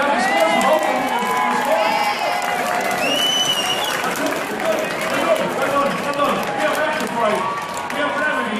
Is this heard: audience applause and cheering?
yes